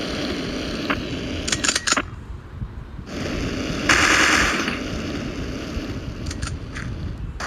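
Rapid bursts of gunfire from a gun in the mobile shooting game Mini Militia, several short clusters of shots over a constant windy background.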